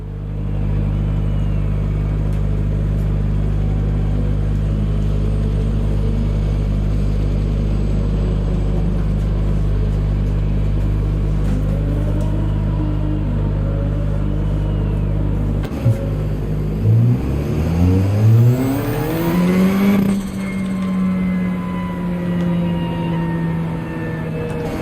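Race car engine in Gran Turismo 7 idles with a steady low drone, then revs up sharply as the car pulls onto the track, the pitch climbing and settling into a sustained loud whine.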